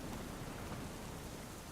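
Steady rain falling in The Witcher video game, a dense, even hiss of rainfall that fills the whole moment without pause, heard alone with no voices over it.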